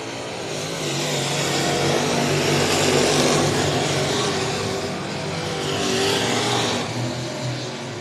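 IMCA Modified race cars roaring around I-37 Speedway, a dense, sustained engine roar from a pack of cars that rises and falls gently as they pass, loud and continuous, with no voices over it.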